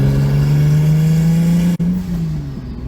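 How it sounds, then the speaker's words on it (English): A turbocharged Lexus IS300 engine droning loudly and steadily up close, then a brief cut and a falling exhaust tone as the throttle lifts, with no talking. "Those blow-off valve sounds."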